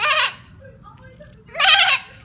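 A seven-year-old girl imitates a goat's bleat with her voice, two loud wavering bleats close to the mic separated by a quiet pause.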